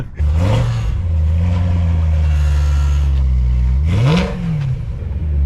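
An old sports car's exhaust rumbles loudly and close, a steady low idle broken by a short blip of revs near the end, with no speech over it.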